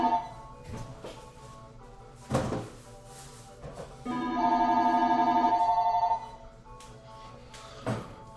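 A telephone rings indoors, with a sustained electronic tone lasting about two seconds, surrounded by intermittent bumps and clatter before and after.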